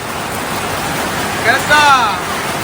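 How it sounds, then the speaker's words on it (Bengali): Heavy rain roars as a thick, constant rush close by, while a voice speaks briefly over it near the end. "বর্ষার জোর দেখুন হেভি জোরে কিন্তু বর্ষা শুরু হলো"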